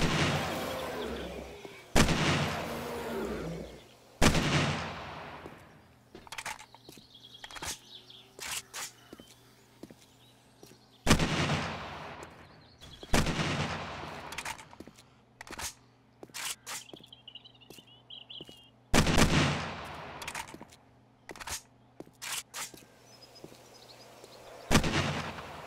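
Video game gunfire while shooting zombies, a series of loud, sharp single shots spaced a few seconds apart, each with a short decaying tail, over faint background ambience and occasional chirping.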